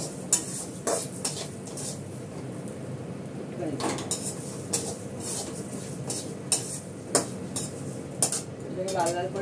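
Lentils frying in a pan for a bottle-gourd dish, with a spoon scraping and clinking against the metal in uneven strokes over a low steady sizzle, close and moderately loud.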